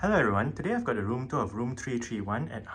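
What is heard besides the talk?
No distinct noise like a dog, phone or traffic.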